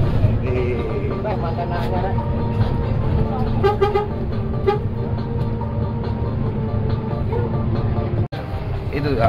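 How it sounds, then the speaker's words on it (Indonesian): A busy bus terminal at night hums with idling bus engines, and several vehicle horns toot in short blasts. Voices chatter nearby throughout. "rame bis malam tuh mas terminal ini"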